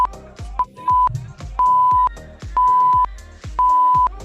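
A workout interval timer during a Tabata session sounds a steady run of electronic beeps, short ones alternating with longer held tones, loud and close over a thumping music track.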